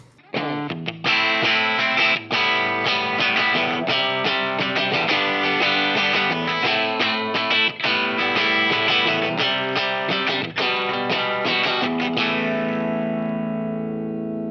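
Electric guitar played through a ProCo RAT distortion model on a Line 6 POD GO, chords and single notes ringing loud and sustained, ending on a long fading chord.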